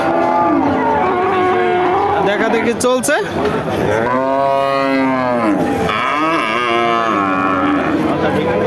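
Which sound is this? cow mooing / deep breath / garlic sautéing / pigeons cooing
cow mooing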